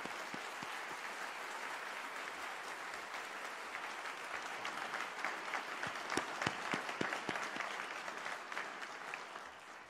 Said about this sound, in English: One more round of applause for the graduates.